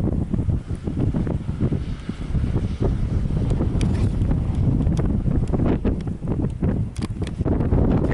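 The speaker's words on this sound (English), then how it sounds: "it is incredibly windy, as you can hear" Strong wind roars and buffets the microphone at a big wildfire scene in Cyprus, a loud continuous gusting rush with low rumble and irregular thumps, no voices.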